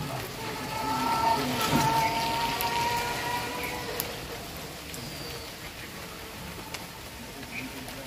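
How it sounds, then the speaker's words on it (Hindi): Steady rain patters and hisses on surfaces nearby, a continuous wash of drops with no talking. "बारिश हो रहा है और यहाँ पर पानी जमा हुआ है।"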